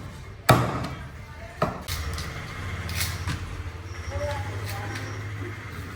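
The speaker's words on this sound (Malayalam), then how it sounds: "ആദ്യമായിട്ട് വെട്ടാൻ പോകുന്ന മീൻ്റെ ഈ കാണുന്ന വലിയൊരു കേരയാണ്" A large tuna is hacked apart by hand at a busy fish market, with a few heavy, sharp chops standing out over a steady din of market noise and indistinct voices.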